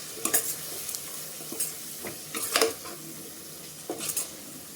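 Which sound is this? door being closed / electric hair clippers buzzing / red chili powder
red chili powder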